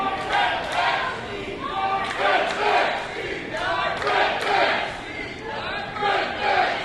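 Wrestling crowd at the London Music Hall during Vaughn Vertigo versus Brent Banks, a steady roar of cheering and shouting rising and falling in waves throughout, with voices blending into the noise.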